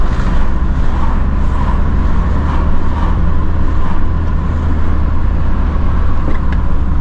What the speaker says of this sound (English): enough from this roaring engine